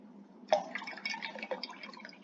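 Water is poured into a glass for a drink, a close, soft gurgling trickle that runs steadily for a couple of seconds with small bubbly splashes.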